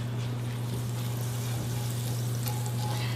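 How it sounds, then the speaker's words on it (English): Butter in a preheated skillet gives off a faint, steady sizzle under a constant low hum, with no talking. "we're going to butter our preheated skillet"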